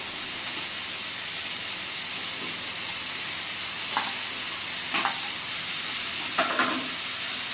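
Jackfruit curry with fried potatoes is stirred and sautéed in a pan, giving a steady close sizzle with a few scraping spoon strokes near the end.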